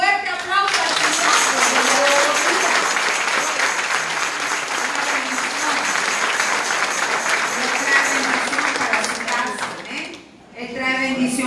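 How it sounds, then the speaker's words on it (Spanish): A church congregation applauds loudly and continuously at a Spanish-language Sunday service, a dense wash of clapping that fades briefly near the end before a voice begins speaking. "Entonces denle un fuerte aplauso al Señor."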